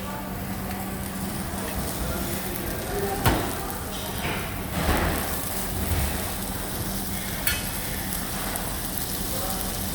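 Butter sizzles in a pan around a small browned red-meat steak, a steady crackling hiss running throughout with a few brief louder knocks and scrapes.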